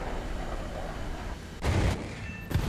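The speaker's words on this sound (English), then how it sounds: "Listen to that Vulcan, I'm so jealous." M61 Vulcan cannon fire in the War Thunder video game, a dense roaring buzz under steady jet noise, with two sharp louder bursts near the end.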